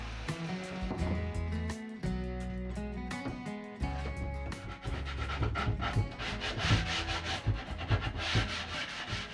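A wooden plank is cut with steady back-and-forth sawing strokes on a boat, a rough rasping texture that grows busier and denser toward the end, close and fairly quiet with no voices.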